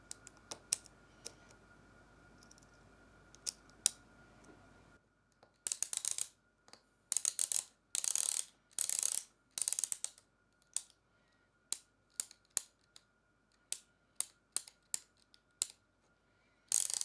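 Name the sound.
3D printed ratchet mechanism clicking with smaller springs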